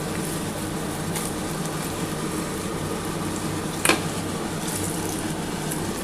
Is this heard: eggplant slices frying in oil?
yes